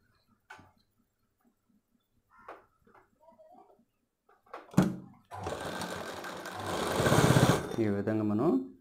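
After some soft speech, a sewing machine starts stitching the back part of a collar-neck blouse, whirring loud and steady for several seconds, close to the microphone.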